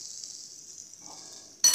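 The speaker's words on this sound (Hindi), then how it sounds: "अब चम्मच से हम इन सबको मिक्स कर लेते हैं।" Spoon stirring mashed boiled potatoes with cumin and spices in a frying pan, a steady soft sizzle throughout, then a loud scraping stir bursts in near the end.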